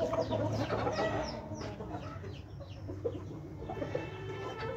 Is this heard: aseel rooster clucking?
yes